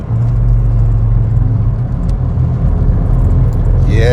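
A Ford Escort drives uphill at about 50 mph into some bends, its engine a steady loud rumble with road and tyre noise filling the whole stretch, no voices over it.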